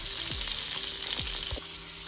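Turkey skewers and banana pieces fry together in a pan, giving a dense, steady sizzle close by with a few soft knocks of utensil or food shifting, then a slight drop in intensity at the end.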